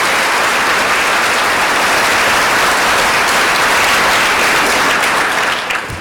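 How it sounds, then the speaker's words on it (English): A large audience at a graduation ceremony gives sustained, dense applause for a choir and its conductor, a loud steady wash of clapping that holds evenly and then begins to fade at the end. "Let's give them one more round of applause"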